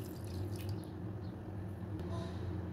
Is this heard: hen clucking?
no